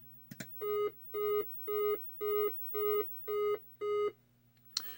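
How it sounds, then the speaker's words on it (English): Seven evenly spaced electronic beeps from a Centipede arcade circuit board's diagnostic beep code, in a steady rhythm, each a clear tone of equal length, over a faint background hum. "we're getting 7 beeps now"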